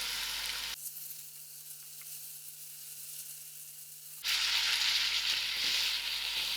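Cabbage frying in a pan for a vegetarian biryani with soya chunks, a steady hiss of sizzling oil that drops away to near quiet mid-way, then returns louder and brighter.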